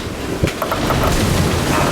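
Strong wind gusting at 25 to 30 knots roars across a sailboat at sea, a loud, steady rushing buffet against the microphone with faint clanks and water noise underneath.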